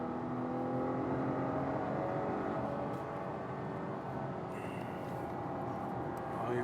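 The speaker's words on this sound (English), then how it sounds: "We're doing 80 around this turn, and it is solid." 2021 Acura TLX Advance with SH-AWD cornering at speed, a steady engine drone blended with road and wind noise from inside the cabin, continuous and moderately loud with no talking.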